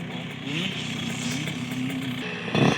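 Two racing motorcycles, numbers 69 and 96, sit at the start line of a dirt track race, their engines holding a steady buzzing idle with small revs under a commentator's voice.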